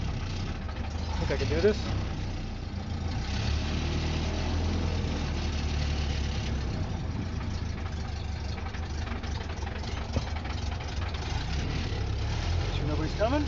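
A 1929 Ford Model A pickup engine runs with a steady low, chugging rumble close by, while someone talks briefly over it.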